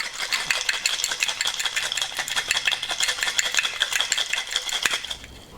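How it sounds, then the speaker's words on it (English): Ice cubes rattle and clatter steadily against the sides of a steel bowl as it is shaken to mix nimbu masala soda, a dense, continuous close-up jangle for several seconds with no talking. "let's add a lot of ice in here. And now guys, I'm going to use a steel bowl like this and shake it up."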